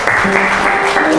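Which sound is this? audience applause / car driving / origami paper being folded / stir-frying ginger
audience applause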